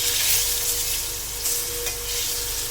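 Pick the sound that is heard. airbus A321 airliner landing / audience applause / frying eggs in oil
frying eggs in oil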